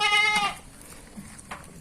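Goats on a goat and sheep farm bleat loudly up close, one long wavering cry followed by a fainter call a moment later amid quiet farmyard background.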